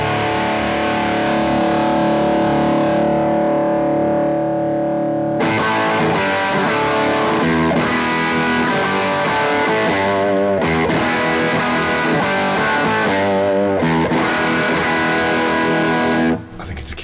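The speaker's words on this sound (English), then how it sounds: "It goes super fuzzy." An electric guitar run through a fuzzy, heavily distorted preset in the Two notes Genome amp software, with input and output turned up. Loud saturated chords are strummed and held, then broken by brief gaps, with a short cut-off at the end.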